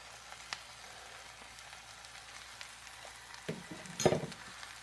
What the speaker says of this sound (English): the onions have been cooking on medium-high for a few minutes